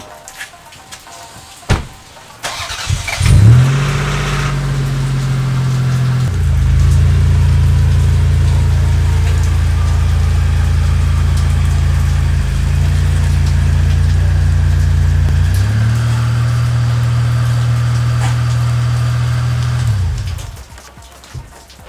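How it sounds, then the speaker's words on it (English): A car engine cranks and starts, then idles steadily and loudly up close for about seventeen seconds while the car is moved, with a brief door or latch clunk before the start and the engine cutting off at the end. "So let's move the car."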